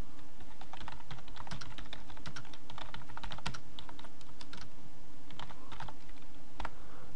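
C# code being typed on a computer keyboard produces rapid, irregular clusters of close, crisp key clicks that run continuously with no voices.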